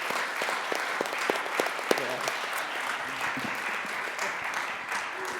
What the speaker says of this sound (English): let's give a round of applause to all the panelists today